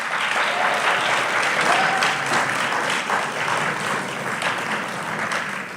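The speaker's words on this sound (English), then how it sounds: "Let's give all of our new inductees a round of applause." Dense, loud applause fills a nursing honor society induction ceremony as the new inductees are recognized, sustained evenly with no voices over it.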